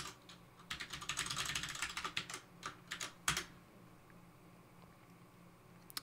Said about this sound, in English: let's hope I typed the password in correctly.